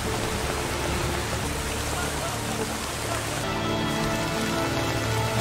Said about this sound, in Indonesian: hujan pun turun sangat deras